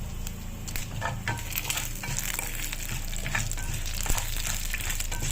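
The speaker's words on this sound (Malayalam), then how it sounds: "നമുക്കിനി എടുത്തു വെച്ചിരിക്കുന്ന മുളക് ഒന്ന് ചേർത്ത് കൊടുക്കാം" Dried chillies drop into hot oil already sizzling with toasted dal and fenugreek, a steady close frying crackle with stirring scrapes and no talk.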